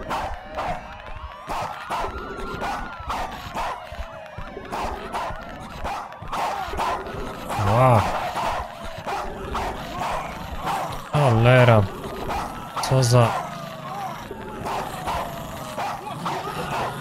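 Dog barking in the video game Worst Case Z, a few short loud yelps and barks around the middle of the clip, heard over game music and someone talking.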